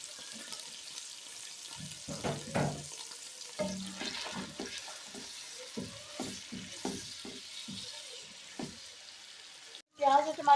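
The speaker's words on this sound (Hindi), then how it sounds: "एक मीडियम साइज का टमाटर शामिल कर लेते हैं बारीक बारीक काट के।" Chopped onion and a finely diced medium tomato fry in a pan for kadhi pakora masala, giving soft, uneven sizzling with scattered stirring scrapes at a low level close by.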